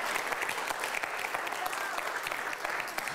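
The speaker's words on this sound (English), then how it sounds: "Let's give Sheldon another round of applause." A theatre audience claps for Sheldon Epps, a quiet but dense patter of many hands that stays steady and fairly distant.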